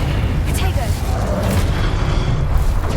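A fire spell goes off in Hogwarts Legacy as a dense, booming burst with a roaring rush, loud and sustained for a few seconds.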